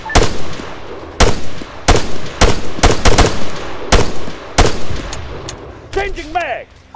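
Bursts of machine gun and rifle fire ring out in an ArmA 3 combat scene: about a dozen sharp, loud shots in uneven clusters, then a short whistling, warbling tone near the end.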